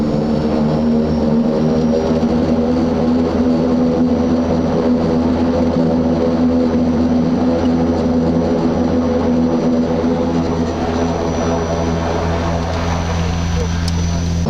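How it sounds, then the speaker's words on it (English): Antonov turboprop airplane engines drone loudly and continuously inside the aircraft, a dense steady roar with strong low tones throughout while a voice talks over it. "We are not going to taxi on a gate because this airplane is turboprop"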